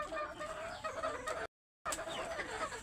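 Free-ranging desi chickens cluck softly and continuously at a distance, with the sound cutting out for a moment midway before resuming.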